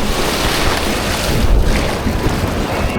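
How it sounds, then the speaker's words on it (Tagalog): Big ocean waves during a boat ride off Boracay, a loud continuous roar of water and surf mixed with heavy wind buffeting the microphone, no voices heard. "Ang laking alon!"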